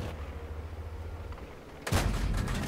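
A tank gun fires in the video game World of Tanks, one sharp, loud blast near the end that cuts through steady low engine rumble.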